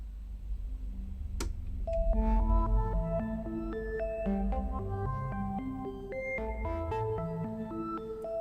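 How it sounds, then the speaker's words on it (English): Roland JD-Xi synthesizer playing a string patch driven by an NDLR motif in the chord of C, with stepped sustained notes rising and falling in a continuous melodic pattern at steady moderate level, no talking. "we can just hit a C up here and we're hearing the strings"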